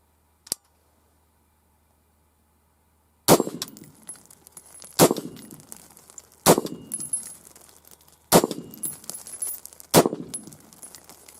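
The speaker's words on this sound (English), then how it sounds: "I only fired 5 shots" Five sharp pistol shots fired one-handed at a target, sounding as loud cracks spaced a second or two apart, each with a brief ringing tail, after one isolated click and a long silence.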